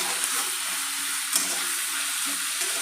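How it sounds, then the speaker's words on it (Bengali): Onions sizzle in a pan with salt while a yogurt chicken curry is prepared: a soft, continuous hiss with light crackles and an occasional brief clink, no talk. "নুন দিয়ে দিলে তাড়াতাড়ি ভাজা হয়ে যাবে।"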